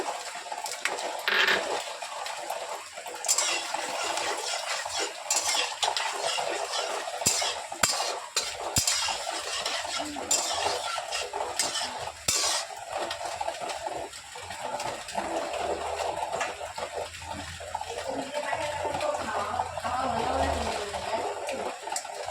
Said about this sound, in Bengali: ওই বড়া ভাজা তেলেই আমি ফোড়নটা দিয়ে দেব।